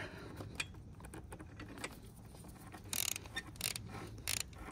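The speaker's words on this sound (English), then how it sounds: "I'm using this kind of tool, this setup with a swivel head and a socket size 12" Ratchet with a swivel head and 12 mm socket working on motorcycle exhaust header nuts of a 2022 Yamaha XSR900, quiet clicking bursts of the pawl with a few sharper metallic ratcheting spurts near the end.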